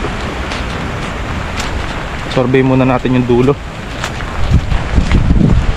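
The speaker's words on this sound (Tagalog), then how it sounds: "Lakas ng hangin at ulan." Strong typhoon wind and rain lash a vegetable farm during Typhoon Paulo, a steady broadband roar throughout with someone speaking briefly over it.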